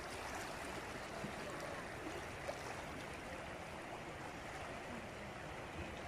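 Water of the Sindh river at Kot Sultan flowing steadily, a faint, continuous broadband rush with no talk over it.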